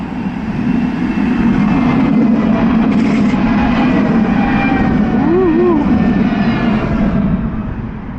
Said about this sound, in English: Here comes the tram.